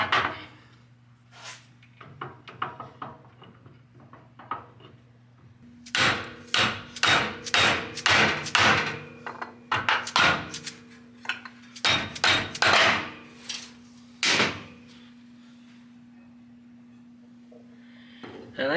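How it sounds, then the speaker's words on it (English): Sharp metallic hammer strikes drive parts out of a Ford 6.0 Power Stroke diesel oil cooler with a socket, first light scattered taps, then dense loud rapid blows in bursts, close by, over a steady low hum. "We're going to hammer these out."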